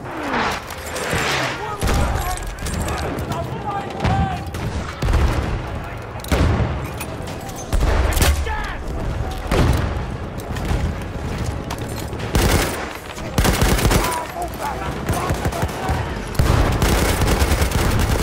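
Light machine gun firing in Battlefield 1, dense repeated bursts of gunfire with heavy booms and crashes throughout, loud and close, mixed with other battlefield shots and occasional voices.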